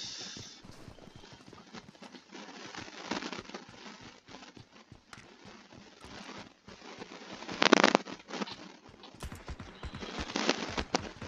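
Footsteps in the battle royale game PUBG, a fast steady run of light thudding steps with a few louder bursts, heard fairly close over quiet game ambience.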